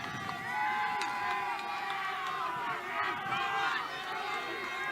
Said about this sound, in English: Hear the crowd getting into It's it